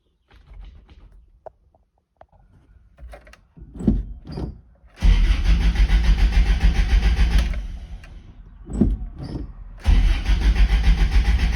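A 1982 pickup with a Weber carburetor cranking over in a few whirring bursts before catching, then roaring loudly at close range, dropping briefly and revving up again.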